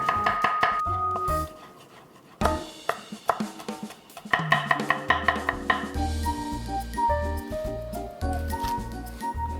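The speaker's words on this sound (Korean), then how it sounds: "같이 콩나물찜에 들어갈 채소들 손질을 하겠습니다" Vegetables chopped on a board for Korean braised bean sprouts: a steady run of quick knife strikes in bursts with brief pauses, close and crisp, no talking.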